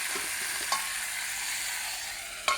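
Tomatoes and coriander frying in oil, a soft continuous sizzle with two sharp utensil clinks, one early and one at the end, no talk.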